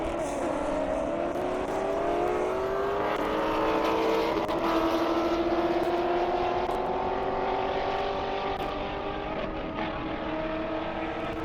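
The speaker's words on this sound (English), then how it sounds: "Over there, I got Keith Reynolds Z06 Corvette" A Chevrolet Corvette Z06 race car running on an airstrip, its engine a continuous loud roar with slowly rising and falling pitch throughout, steady and close with no talk.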